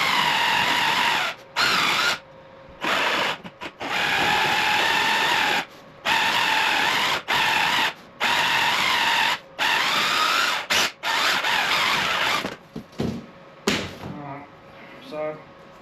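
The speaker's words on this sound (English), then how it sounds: "you can just use a jigsaw on them, just take your time with it" A jigsaw cuts through material for a garage wall makeover, buzzing loudly in long sustained bursts broken by short pauses, with a few stuttering starts and stops near the end.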